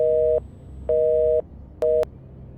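Three bursts of a phone busy signal after dialing an unreachable number in Dragon Ball Z: Kakarot, two long tones then a short one, steady and clear over a faint low hum.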